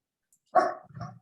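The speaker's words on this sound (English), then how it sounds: "I'm sorry about the barking dog" A single short dog bark, fairly close and clear, followed by a quieter trailing yelp in an otherwise quiet room.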